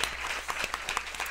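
Brief scattered clapping from a small audience at a French-language podcast taping, a handful of distinct hand claps over a quiet bed rather than a full ovation.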